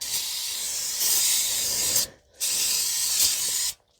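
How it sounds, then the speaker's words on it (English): Brake cleaner sprays in two long hissing bursts onto the engine area of a 2015 Toyota Sienna 3.5 V6, each lasting about a second and a half, close and loud, separated by a brief pause. "Wash down the area down with some brake cleaner."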